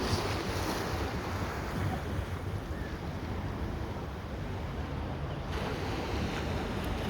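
Ocean waves wash onto a beach in a continuous broad roar, with wind buffeting the microphone, steady and fairly loud throughout with no voices.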